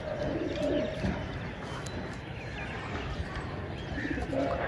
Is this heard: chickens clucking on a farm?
no